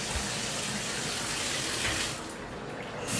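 Shower water runs in a steady, close broadband rush, dipping briefly in the middle before surging back, with no talking over it.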